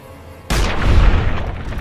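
A single loud gunshot from Fallout New Vegas fires after a brief quiet stretch, giving a sharp booming report that rolls into a long decaying rumble.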